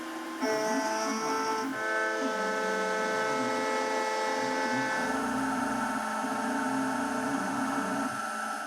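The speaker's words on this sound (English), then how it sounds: "next up, we'll CNC out the body right there." CNC machine milling a brass butterfly body, a steady high-pitched whine with layered tonal harmonics and shifting pitch as the cutter moves, continuous and close with no voices.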